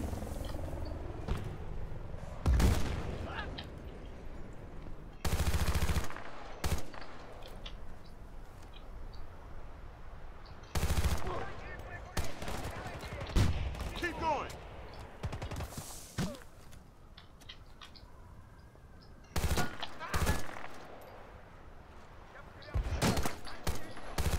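Gunfire in the Battlefield Bad Company 2 video game, with repeated loud bursts and single shots scattered across the stretch, under intermittent talking.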